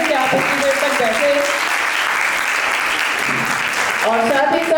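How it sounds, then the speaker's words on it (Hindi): A seminar audience gives dense, sustained applause that fills the room. A voice speaks faintly beneath it near the start and end. The event is a joint symposium of the UP Punjabi Academy and a philosophy department. "एक बार अपने लिए तालियां बजा लीजिए"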